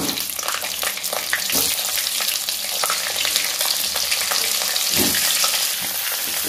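Boiled potatoes go into a hot frying pan one at a time for a dosa filling. A loud, steady oil sizzle plays throughout, broken by a few soft thumps and stirring scrapes, with no voices.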